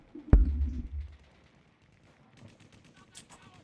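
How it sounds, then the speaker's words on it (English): Gunfire sound effect played through a livestream: one sharp, loud shot near the start with a short rumbling tail, followed by quieter, scattered popping bursts toward the end. "You should be hearing some gunfire here."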